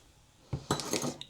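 Spoon clinking against a mixing bowl as sugar is stirred into batter in a home kitchen, several quick clattering strikes over about a second, close and fairly quiet with no talk.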